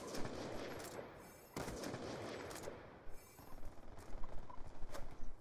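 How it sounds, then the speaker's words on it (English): Gunfire rattles in Black Ops 2, with a sustained burst of automatic fire followed after a short pause by rapid, uneven volleys of shots, moderately distant and rough. "something just started shooting at me"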